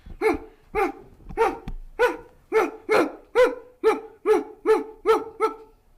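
A child in a fourth-grade Lewis and Clark school presentation imitates a dog with about a dozen loud, rhythmic barks spaced roughly half a second apart, close and clear with nothing else heard.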